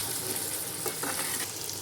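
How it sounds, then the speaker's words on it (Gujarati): Tomato masala for paneer bhurji sizzles steadily in a hot pan while being stirred until the tomatoes release their water, a continuous close frying hiss. "પ્રોપર રીતે આપણે આને મિક્સ કરવું પડશે અને ટમેટાનું પાણી છૂટે ત્યાં સુધી પકાવવાનું છે"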